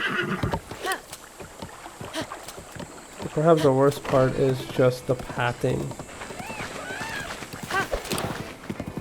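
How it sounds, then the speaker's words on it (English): A horse in the video game The Legend of Zelda: Breath of the Wild whinnies loudly in a rising, wavering call, with rhythmic hoof clip-clops around it, while someone talks over the game sounds. "The horse is supposed to adjust his own path, but a lot of time it doesn't."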